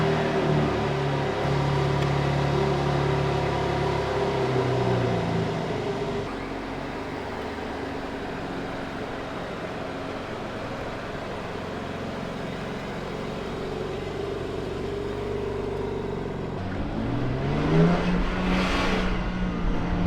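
A BMW M4 convertible driving with the roof down, its engine droning steadily under road and wind noise, easing off midway before a rising rev and a sharp surge near the end, with no voices.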